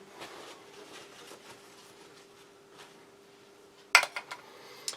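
A metal spoon rinsed in water in a mug, soft swishing at first followed by a few bright, close clinks against the mug near the end, quiet overall.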